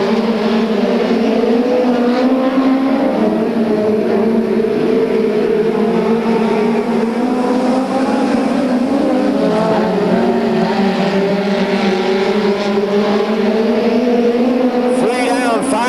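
USAC Western States and TQ midget race cars lap the Bakersfield, California track in a loud, continuous multi-engine drone, the revs rising and falling through the turns.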